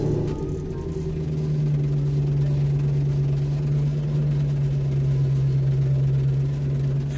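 A Lexus LS400 with a rear-mount turbo setup idles steadily after startup, a low droning engine hum that holds even and close throughout.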